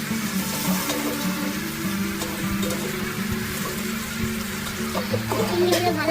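Prawns and chopped onion fry in a pan with a steady, close crackling sizzle that runs unbroken throughout.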